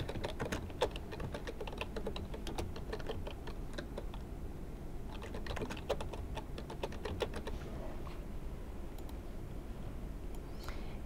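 Someone types steadily on a computer keyboard: rapid, close key clicks come in bursts with brief pauses between them over a quiet background, and no one speaks.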